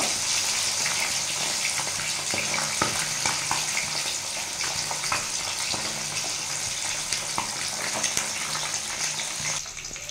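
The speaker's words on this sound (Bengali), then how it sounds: "আমি মাছটা দিয়ে দিচ্ছি, মাছটা আমি ভাজিয়ে নেব।" Large puti fish drop into hot oil and fry with a loud, continuous sizzling hiss and crackle that holds steady throughout, close and alone.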